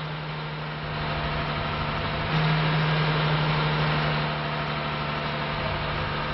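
A sand and salt spreader's engine runs steadily while its auger turns at setting 2, held near 2,000 RPM during calibration, giving a continuous loud drone with a steady low hum that swells slightly midway.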